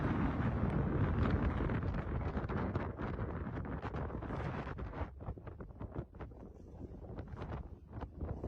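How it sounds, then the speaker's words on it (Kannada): Strong wind sweeps across a hilltop, a continuous loud roar buffeting the microphone that eases slightly toward the end, with no voices. "ಗಾಳಿ ಹೆವಿ ಬರುತ್ತೆ ಬೆಟ್ಟದ ಮೇಲೆ."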